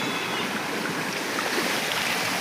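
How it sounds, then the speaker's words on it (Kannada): Runoff from rain-soaked fields streams steadily past a house during monsoon rain, a continuous broad rushing wash of water that stays even and close throughout with no voices. "ನೋಡ್ರಿ ನೀರು ಯಾವ ನಮ್ಮನೆ ಬರ್ತೈತೆ ನೋಡ್ರಿ. ಬರೀ ಹೊಲ ನೀರು ನೋಡ್ರಿ."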